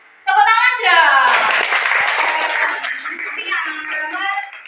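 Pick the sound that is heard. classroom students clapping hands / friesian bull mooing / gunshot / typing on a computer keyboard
classroom students clapping hands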